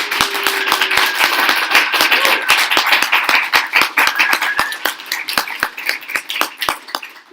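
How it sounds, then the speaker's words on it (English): A conference audience at a Ruby programming event claps. Loud, sharp individual claps land in a quick, uneven rhythm over a thinner background of clapping that thins out toward the end. "Can we just give them a round of applause?"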